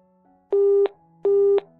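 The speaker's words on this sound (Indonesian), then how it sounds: "menutup telepon sepihak" Telephone busy tone after a one-sided hang-up: two steady, identical beeps of about a third of a second each, evenly spaced over a faint background hum, clear and close.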